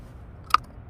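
One crisp, short crack as a park golf club strikes a toilet paper tube, isolated against faint background hush.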